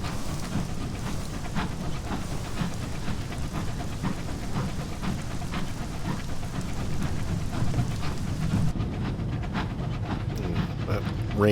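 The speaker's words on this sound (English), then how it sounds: "Rain sure stops abruptly." Steady rain and rumbling thunder from the video game Sunless Skies fill the scene, then the rain stops abruptly near the end.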